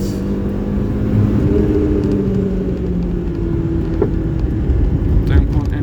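A car accelerating hard in second gear, its engine a steady loud droning rumble with a slowly rising tone, heard from inside the cabin with no speech.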